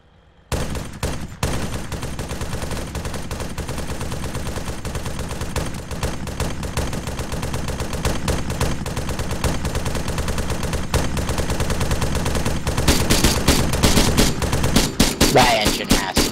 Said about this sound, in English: Wait, I hear more shooting.